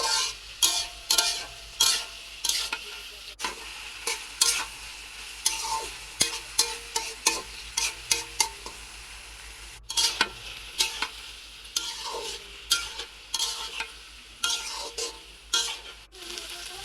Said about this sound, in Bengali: আমি ভেন্ডিটা এভাবে ভাজি করি।